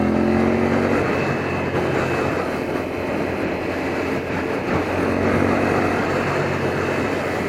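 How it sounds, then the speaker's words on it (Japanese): A Honda Hawk 11 motorcycle runs in third gear at about 5000 rpm on a freeway, its engine a steady droning hum mixed with heavy wind rush and road noise, continuous and without voices. "今エンジンの回転数5000回転ぐらい"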